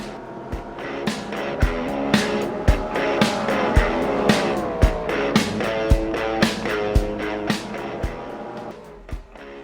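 Race cars practicing on the road course at New Hampshire Motor Speedway in Loudon, engines droning steadily with a rapid series of sharp, regularly spaced thumps and bursts from cars passing nearby.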